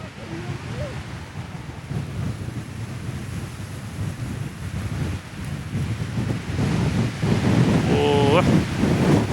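Strong, cold wind buffets the microphone outdoors at an abandoned Aegean village, Eski Balıklıova in Urla, İzmir, a steady close rushing roar that swells louder toward the end, with a brief voice-like sound near the close.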